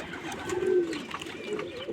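Pigeons, all of one colour and nesting with eggs and chicks, coo softly at a pigeon farm, a low murmuring call rising once clearly over faint background noise.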